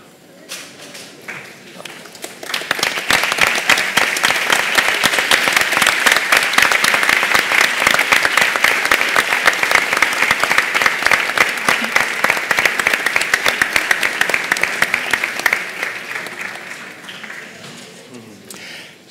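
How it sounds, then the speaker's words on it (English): Sustained applause from an audience at a project results event honoring the facilitators, rising quickly to a steady dense clapping that holds for about thirteen seconds before fading out. "please, facilitators, stand up, we will give you an applause"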